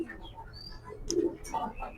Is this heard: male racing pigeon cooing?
yes